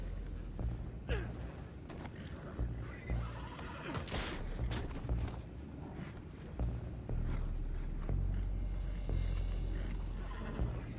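Horses whinny and snort in Red Dead Redemption 2 amid busy game sound effects and background noise, with several neighs rising above the mix at moderate loudness.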